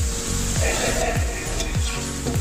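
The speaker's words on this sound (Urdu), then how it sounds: "یہ 1 پاؤ مٹر میں نے اس میں ایڈ کر لی، اس کو اچھی طرح سے بھون لیں گے۔" Green peas and tomato paste fry in a pan for matar qeema, giving a steady, close sizzle broken by regular scraping strokes of a spoon about every half second.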